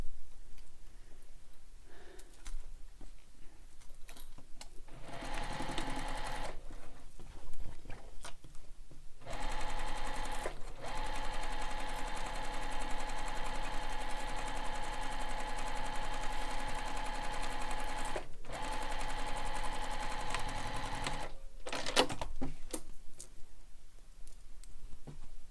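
A sewing machine stitches a backpack lining piece in several bursts of fast, steady whirring, separated by short pauses.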